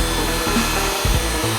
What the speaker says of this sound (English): looks like I might actually have to drill this hole out a little bit